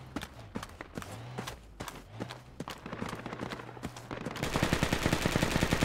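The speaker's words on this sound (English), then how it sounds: "There's the machine gunner, god damn it." Machine gun fire in a Project Reality urban battle, rapid bursts of shots at moderate distance giving way to a loud, dense sustained volley, with faint voice chatter over radio.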